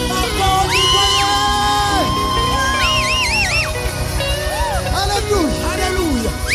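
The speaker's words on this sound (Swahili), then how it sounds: "Makofi kwake." Church congregation at an evening worship service cheering and whooping loudly, with shouted voices and crowd noise continuing throughout over music.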